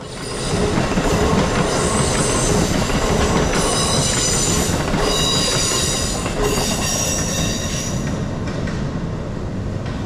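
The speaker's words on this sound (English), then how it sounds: "Amtrak gets in on the action with Regional Train 179 cruising by on Track 3" An Amtrak regional passenger train rushes past on the tracks at Merritt 7 station, a loud steady roar with rattling wheels and faint high squeals, no voices.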